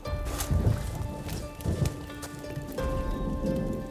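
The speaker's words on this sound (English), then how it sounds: "It's been raining all day, it's been pouring." Heavy rain pours steadily, with dense pattering and louder bursts of drops striking a hard surface close by.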